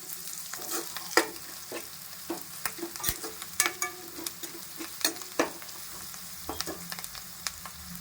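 Spices being stirred into okra curry frying in a pan, with a steady low sizzle and scattered sharp scrapes and clinks of a spoon against the pan, close and moderately loud, with no talking.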